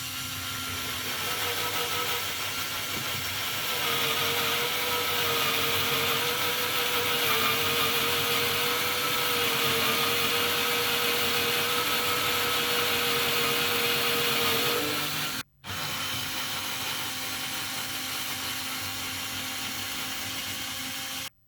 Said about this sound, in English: And we can even drill holes in 2x4s.